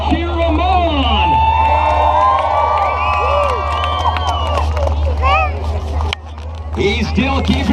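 A loud crowd at a monster truck show cheers and shouts continuously, with children's voices and babble rising and falling, a brief dip near the end before the roar returns.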